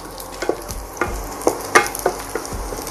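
Dried chilies fry over gentle heat in a pan for a spaghetti aglio olio with bacon, giving a steady soft sizzle broken by several sharp utensil scrapes and clicks from stirring, close up with no talking.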